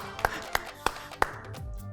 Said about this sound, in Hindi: ताली बजा लो, अच्छी बात है।